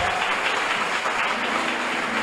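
A church congregation at a Christian worship service in Mahotière claps together in a continuous, even wash of applause, moderately loud and steady from start to finish.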